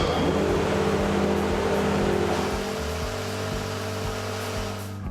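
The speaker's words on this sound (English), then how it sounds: "At the control panel, you can start and stop your cutter motors, your power feed, and your sawdust extraction system." Cutter motors of a Wood-Mizer MP360 planer moulder run with a steady loud hum and broad whooshing noise. The tone shifts slightly partway through, then begins to wind down at the very end.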